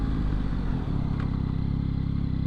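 A 2022 Yamaha XSR900 motorcycle engine held at half throttle, a steady loud, close rumbling drone with a throbbing low pulse, running alone without voices.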